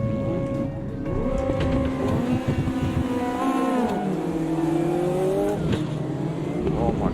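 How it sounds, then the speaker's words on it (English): High-powered turbo race car in Automobilista 2, revving loudly and close, with rising and falling pitch sweeps as the turbo spools up and the engine accelerates. "Hear that? Just turbo kick in."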